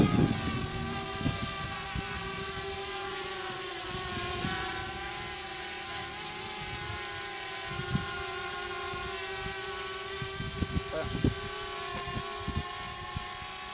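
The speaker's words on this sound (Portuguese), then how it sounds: "Então eu vou levantar voo aqui para mostrar para vocês, tá?" A DJI Spark drone lifts off outdoors in light rain and keeps flying, its propellers making a steady, close, high-pitched buzzing whine throughout with faint scattered knocks underneath.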